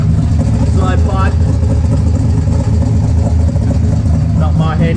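A Ford Capri race car engine idling at about 1,000 rpm, a steady low rumble that runs continuously and close by, with a voice talking over it.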